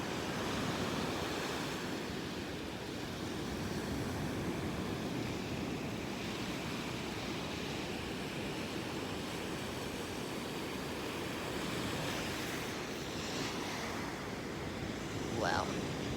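Ocean waves wash onto a beach at high tide, a constant broad rushing surf with some wind buffeting the microphone throughout.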